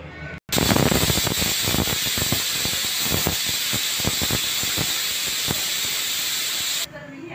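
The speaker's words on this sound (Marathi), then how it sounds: "इथे आपल्या कुकर शिट्ट्या देऊन झालेल्या आहे" Pressure cooker cooking green moong lets out a loud, continuous hissing steam release, close and steady for several seconds with faint rattling pulses inside, then cuts off abruptly.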